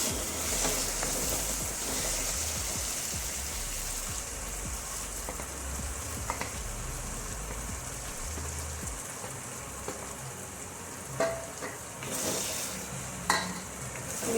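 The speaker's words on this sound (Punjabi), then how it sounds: "ਮਿਕਸ ਕਰ ਲਵਾਂਗੇ ਬੈਂਗਣ ਪਾ ਕੇ" Eggplant stirred into spiced masala in a pan for baingan bharta, giving a steady sizzle and scraping stir throughout, with a few louder clatters near the end and no voices.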